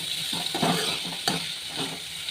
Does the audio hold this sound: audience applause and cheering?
no